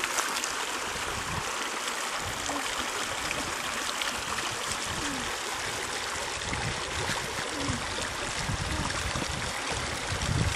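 Constant rushing creek water with light sloshing as a gold pan is washed down at Crescent Creek, close and steady, with no talk.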